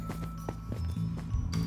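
Horse hooves clopping in a video game ride, with a few soft, irregular thuds over a steady low game hum and ambient tones.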